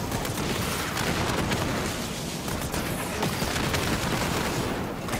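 Artillery bombardment in the video game Halo Wars 2: dense, continuous rumbling blasts and crackling impacts blending into a loud, unbroken roar for the whole stretch.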